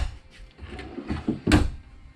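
A drawer in a 2024 Jayco Eagle 370FBTS fifth-wheel camper slides and bumps shut nearby, with soft wooden rumbling and a sharper knock near the end; no talking.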